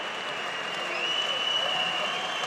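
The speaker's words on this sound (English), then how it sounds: "Receives an amazing applause, understandably, for this super fight here of KOK Championship." A crowd at a KOK Championship kickboxing event in Tallinn, Estonia, applauds a local fighter's entrance with steady, sustained clapping and cheering, loud and continuous with no pauses.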